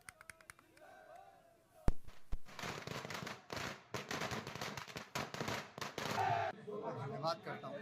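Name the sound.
fireworks set off at Picture Palace Chowk celebration, Mussoorie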